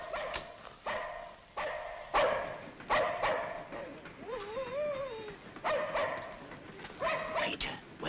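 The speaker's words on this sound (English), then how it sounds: "She's barking." A female dog named Raving Beauty barks in repeated bursts of several yaps at a time, close by and fairly loud, with a short whining whimper in the middle of the barking.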